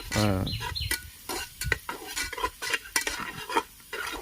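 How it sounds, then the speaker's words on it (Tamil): Crab biryani masala being stirred and sautéed in a pan, with scraping and clinking of a utensil against the metal in irregular strokes over a low sizzle, close and fairly loud, with a brief tonal sound at the start. "இப்போ நன்கு நம்ம வந்து நல்லா வதக்கி எடுத்துக்கணும்."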